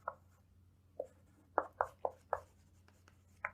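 Chalk or marker writing on a board in a classroom, a few short scratchy strokes in an irregular cluster, faint and close, with no talking.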